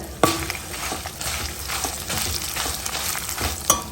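Chillies and coriander seeds fry in a hot pan with a steady crackling sizzle, punctuated by a few sharper pops and stirring scrapes, close and moderately loud with no talking.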